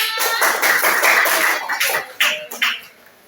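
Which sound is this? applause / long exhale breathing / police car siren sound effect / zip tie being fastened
applause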